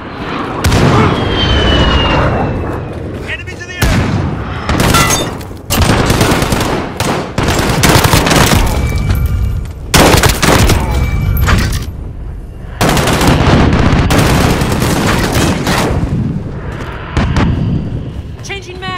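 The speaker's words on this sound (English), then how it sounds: "Striker, we're taking some fire." Heavy gunfire and explosions from a Call of Duty: Modern Warfare team deathmatch, loud and near, with rapid automatic bursts and booming blasts filling most of the stretch, broken by brief lulls, while voices call out over the noise.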